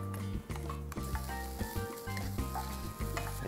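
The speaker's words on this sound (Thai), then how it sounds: "ผมก็จะมาตั้งกระทะนะครับหรือจะใช้เป็นหม้อก็ได้นะครับใส่ลงไปเลยครับคั่วไม่ต้องใส่น้ำมันนะครับ" Pounded ginger dry-roasted in a wok without oil, a dense continuous sizzle with a repeated scrape and clatter of a spatula stirring in the pan, loud and close, with no talk.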